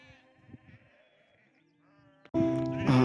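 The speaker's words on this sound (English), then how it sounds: "And there's another black sheep." Sheep bleating on a mountain slope during a climb of Wetterhorn Peak, with faint, scattered calls at first and then a loud, sustained bleat close by near the end.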